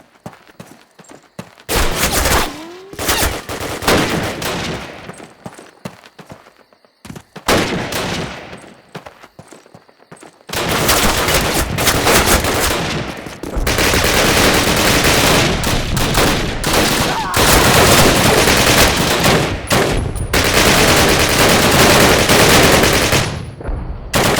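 MG42 machine gun fire in Call of Duty, at night at Pegasus Bridge: long loud bursts of rapid automatic fire, sparse shots at first, then near-continuous heavy firing.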